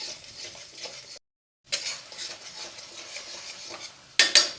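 Capsicum paneer masala being sautéed in a pan over a low flame, with soft continuous stirring and scraping, a brief pause, then a few sharper clinks of a utensil against the pan near the end.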